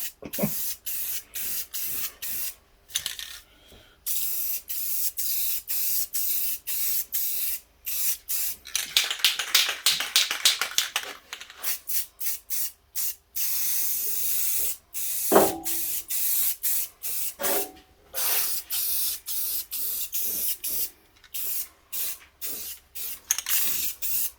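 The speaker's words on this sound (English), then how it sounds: "Left-handed spraying." Aerosol spray hisses in repeated bursts of varying length, close and fairly loud, separated by short pauses.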